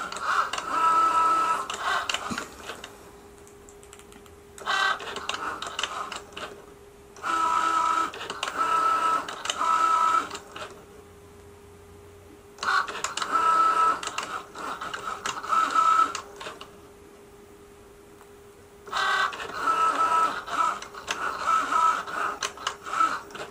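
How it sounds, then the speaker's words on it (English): A Cricut Joy cutting machine runs a cut with a whirring, mechanical printer-like motor. It works in several bursts separated by quieter pauses, close up with a faint steady hum underneath and no voices. "So now it's cutting."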